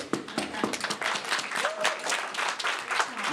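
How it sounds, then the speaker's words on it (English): Audience applause at a Guardians of the Galaxy Vol. 3 press conference: steady, moderately distant clapping from a crowd filling the whole stretch, with a brief whistle-like tone partway through. "So an applause to all of you."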